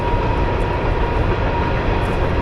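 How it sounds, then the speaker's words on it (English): A loud, continuous roar of a train rumbling past close by a primitive campsite at James River State Park, steady and droning throughout, with no voices. "I stopped recording because the train was going to drown me out."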